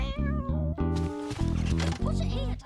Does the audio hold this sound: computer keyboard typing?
no